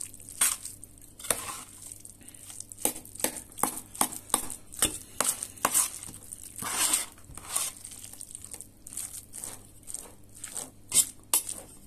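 A mayonnaise-dressed autumn salad being stirred, with repeated close crunchy, squelching scrapes in an irregular rhythm, some sharper and louder than others, and no talk.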